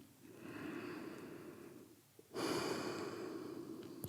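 Slow, soft breaths during a yoga side-body stretch: a long airy inhale-exhale, a brief pause, then a fuller, louder breath, close and quiet.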